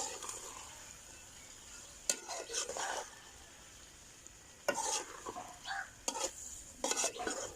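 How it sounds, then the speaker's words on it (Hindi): Aloo gobhi, a potato and cabbage curry, is stirred in a pan with a spoon, giving several bursts of scraping and sizzling at irregular intervals against a soft frying hiss, with no talking. "तो इसको जो है ना वो अच्छी तरह मिक्स कर लेना है ऐसे"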